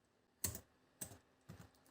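Three separate clicks of a computer keyboard come as a card number is typed, each key press crisp but soft and spaced about half a second apart against near silence.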